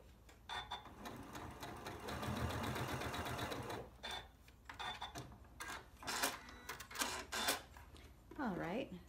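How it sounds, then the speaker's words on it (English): A sewing machine stitches pieced fabric scraps for a crumb quilt, running in bursts of rapid mechanical whirring with a steady run in the middle, stopping and restarting between short pauses, with handling noises and brief talk. "So that's how I'm going to sew that together."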